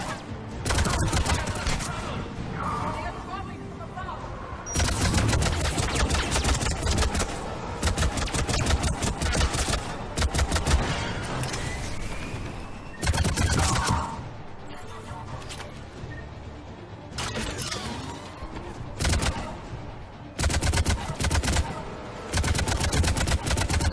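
A mounted gun in the Mass Effect 3 video game fires loud, rapid automatic bursts, broken by brief pauses, across the whole stretch.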